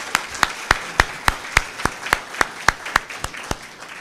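Applause at the Rexpo 2020 expo for the Greater Stockton Chamber of Commerce, though only a few people clap in a sparse, evenly spaced rhythm of about three claps per second, close and distinct.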